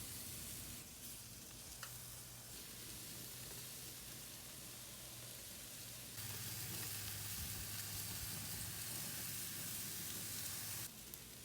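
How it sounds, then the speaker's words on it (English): Beef skewers sizzle on a hot grill in a steady, loud, dense crackle that swells louder for a stretch midway, with no talking. "Now we cook everything on a grill."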